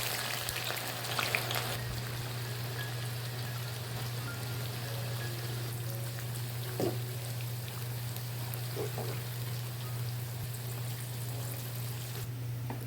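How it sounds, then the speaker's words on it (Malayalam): Sliced onions frying in oil for mutton biryani, a soft, even sizzle with faint crackles under a steady low electrical hum, no voices. "അപ്പോൾ ഞാനിതാ സവാളയെല്ലാം ഇവിടെ ഫ്രൈ ചെയ്തെടുക്കുകയാണ് കേട്ടോ."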